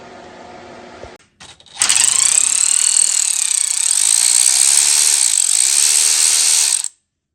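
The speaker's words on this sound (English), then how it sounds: "Let's remove this bolt." A power tool whines loud and close for about five seconds while backing out a bolt on a Ford Mustang II header panel, starting after a brief click and stopping abruptly.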